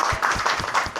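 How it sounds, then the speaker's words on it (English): A small audience claps for Shreya after a growbox group presentation, with a brief burst of scattered hand claps in a steady rhythm. "So give her a clap."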